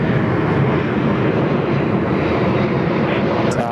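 A Velocity airliner on its takeoff roll from runway 34 right at Sydney Airport, its jet engines giving a loud, steady roar that fills the whole stretch without a pause.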